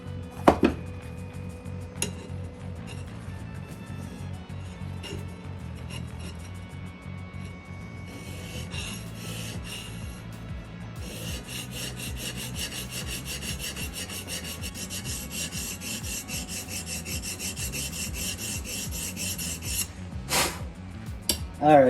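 A 4lb Tasmanian pattern axe being sharpened with a coarse file, heard as a long run of rhythmic rasping strokes close by, with occasional metallic clinks and handling knocks.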